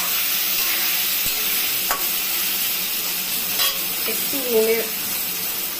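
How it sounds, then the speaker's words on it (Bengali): Potatoes fry in a pan for potoler dalna, a constant loud sizzle with occasional stirring clicks and scrapes, no talking. "আলুটা দিয়ে নাড়াচাড়া করে একটু ঢেকে দিব"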